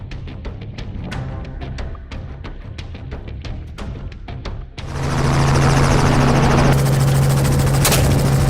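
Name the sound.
twin-engine helicopter flying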